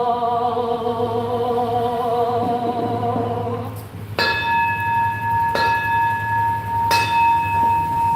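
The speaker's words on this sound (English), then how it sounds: "This is a bell." A temple bell rings at a Nichiren Buddhist morning service at Isshinji Temple. An earlier tone hums away, then three clear strikes follow at steady intervals, each ringing out with a long, pure sustain.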